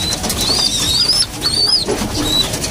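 Racing pigeons feeding on herbal feed after a hard race, with soft coos and chirps, light wing flutters and pecking scuffles close by, steady through the moment.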